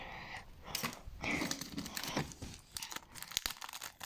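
A Roblox card pack is torn open by hand, with close crinkly ripping and crackling of the wrapper in irregular bursts.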